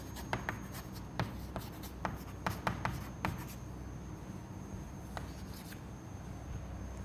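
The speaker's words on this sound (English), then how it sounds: "maybe I can write down the non-dimensional equations next to them" Equations are handwritten during a fluid mechanics lecture on similitude and modeling, heard as close, scratchy pen strokes in short irregular bursts over a quiet background, with no talking.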